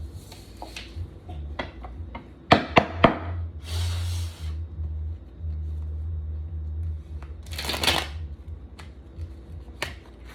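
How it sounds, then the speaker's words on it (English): Tarot cards being handled and shuffled: sharp taps and clicks of cards knocked together, plus two brief riffling bursts a few seconds apart, close to the listener over a quiet room hum. "let's pull you some tarot on this spread"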